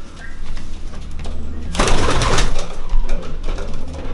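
Racing pigeons in a loft coo softly under a steady background hum, with a louder burst of noise partway through.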